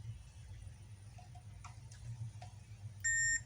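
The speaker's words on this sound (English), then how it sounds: "we have to keep our multimeter on the buzzer mode" A multimeter in buzzer mode gives one short, clear continuity beep near the end, preceded by faint probe clicks over a low background hum.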